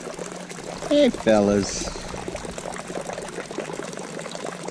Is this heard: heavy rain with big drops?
no